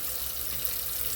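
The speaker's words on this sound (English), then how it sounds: "so we'll turn our water back on" A Moen kitchen faucet runs steadily after being turned back on, a continuous broadband rush of flowing water filling the sink with no pauses or voices.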